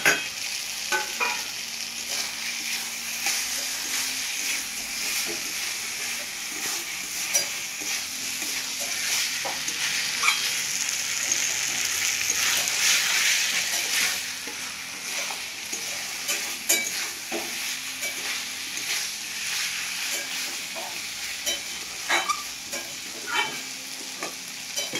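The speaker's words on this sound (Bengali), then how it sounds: "এবারে গোবি মাংসটা দিয়ে কিছুক্ষণ ভাজবো" Meat frying in a pan gives a steady sizzle for the whole stretch. Frequent scrapes and clicks of stirring sound close by, and the sizzle briefly swells louder partway through.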